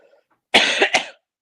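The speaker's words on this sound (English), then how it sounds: "my constant coughing" A man on a football podcast coughs twice in quick succession, close and loud, after a brief murmur.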